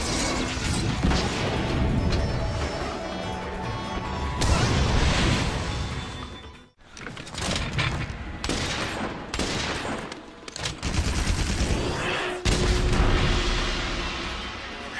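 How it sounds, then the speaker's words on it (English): The Gun Lance in the Monster Hunter video game fires shell after shell, a dense barrage of loud explosive blasts and mechanical clanks filling the whole stretch, with a brief drop in the middle. "Like its cousin, this weapon is a force to be reckoned with its ability to fire off bone-breaking shells to blast a monster"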